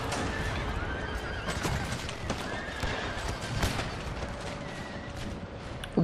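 Horses neigh and hooves clatter amid a Siege of Warsaw battle in Empire: Total War, with scattered musket fire crackling through a dense, steady battlefield din.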